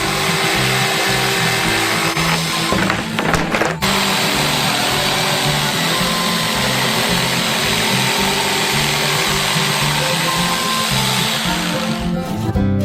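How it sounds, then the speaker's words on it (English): An electric jigsaw cuts a drawn shape out of a sheet, running as a loud, continuous buzzing whir that stays steady for the whole stretch, with a brief change in tone early on. "Now we just need to cut it out with an electric jigsaw."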